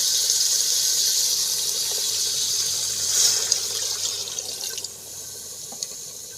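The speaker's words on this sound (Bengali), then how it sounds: "এখন আমি জল দিয়ে দিব" Water streams steadily from a tap or is poured for a home-style desi chicken curry, a continuous bright hiss that holds for several seconds before easing off, with no voices over it.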